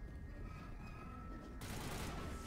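Sustained gunfire in Mass Effect 1 Legendary on Feros, a dense steady rattle of shots that swells louder and brighter about halfway through.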